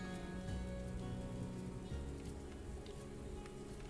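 Rain falls steadily in the Morels: The Hunt 2 video game, a dense, even patter of drops on surfaces that stays constant and fairly close throughout.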